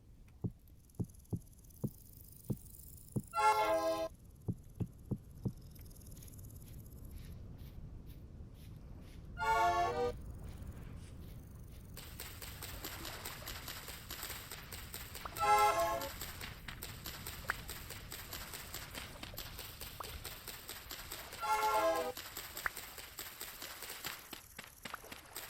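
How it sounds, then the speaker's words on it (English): Damage sound in a Godot-built zombie video game: short thumping heartbeat-like pulses repeating steadily, with four louder rhythmic bursts of clustered hits spaced several seconds apart, alone without talk. "That's the sound of taking damage."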